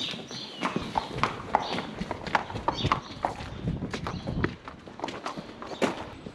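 Horses' hooves clip-clop on hard ground as they are led out of the stables, irregular overlapping steps close by, with faint talk in the background.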